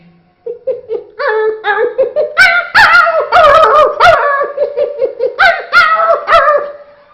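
A man vocally imitates a hungry puppy crying, producing a run of high whimpering yelps and whines in rapid, uneven bursts, with laughter mixed in.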